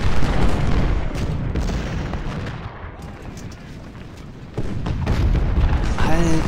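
Cannon and artillery fire in the Civil War strategy game Ultimate General: Civil War, a dense rumble of booms and bursts throughout, with a voice talking over it.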